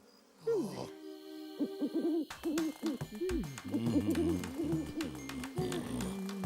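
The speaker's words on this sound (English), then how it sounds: "Elephant, call Owl" A cartoon owl hoots repeatedly in a lively, wavering pattern against a busy musical background, loud and close, with no talking.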